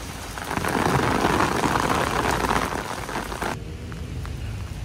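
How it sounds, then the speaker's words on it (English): Steady rain pours down on a street in Bogota, a dense continuous hiss that cuts off abruptly near the end, leaving a quieter wet ambience with no talking. "Now it's raining, so always take an umbrella with you."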